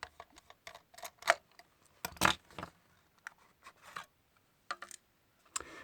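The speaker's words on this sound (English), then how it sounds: "So let's unscrew this." Screws come out of a cheap Halloween decoration with a series of small, irregular clicks and scratchy ticks close up, separated by brief silences, with no speech.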